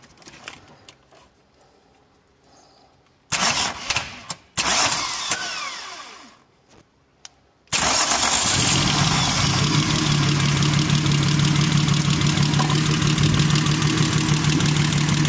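A VW VR6 turbo engine struggles through intermittent cranking bursts, then catches and settles into a loud, steady idle with a droning hum that holds for the remaining seconds.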